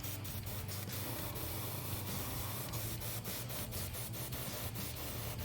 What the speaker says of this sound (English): I need to spray it down a little bit with a little bit more gold